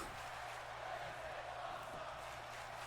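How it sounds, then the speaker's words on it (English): A wrestling crowd at a UPW show chants 'this is awesome', heard as a steady, distant roar of many voices that stays even throughout, with faint talk mixed in. "Crowd saying this is awesome"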